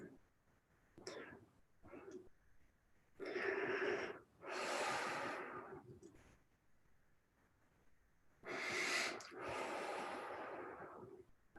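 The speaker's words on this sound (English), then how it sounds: "Breathing in, holding the tailbone, and release." Deep breathing during a meditation exercise: slow, loud inhales and exhales in long drawn-out bursts with pauses between, close to the microphone, with short voiced moments mixed in.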